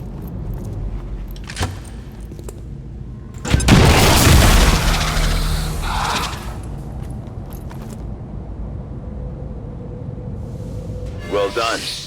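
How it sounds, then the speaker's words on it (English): Grenade explosion in XCOM 2: War of the Chosen, a single loud boom erupting midway and rumbling for a couple of seconds, with a shouted voice calling it just before and faint game sounds around it. "Grenade!"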